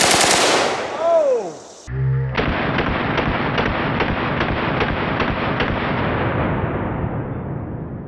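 Full-auto gunfire shooting at padlocks, a long, loud, sustained burst of rapid shots after an earlier sound, ringing out in a continuous stream before tapering.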